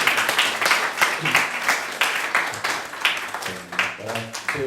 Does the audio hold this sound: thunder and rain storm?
no